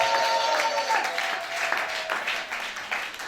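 A church congregation at a Sunday service applauds and cheers loudly for the Lord, a dense sustained roar of clapping and voices that holds steady and then eases slightly toward the end.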